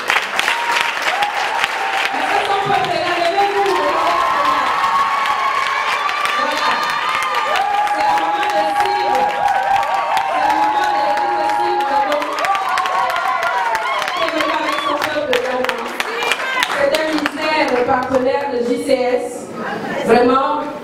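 A conference audience at a Christian women's gathering claps and cheers steadily throughout, with shouts and chatter mixed into the loud, continuous applause.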